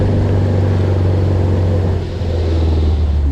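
A Gurgel Ipanema, the first model built by the Brazilian maker, drives along with a steady, loud low engine rumble and road noise throughout, no voices present.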